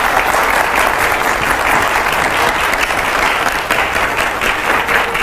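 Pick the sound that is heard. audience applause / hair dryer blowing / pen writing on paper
audience applause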